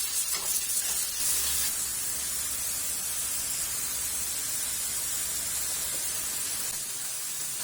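Tomato paste sautéing with bell pepper and tomato in a pan for menudo, a steady close sizzle and hiss of frying oil, slightly louder at first, then continuing evenly alone.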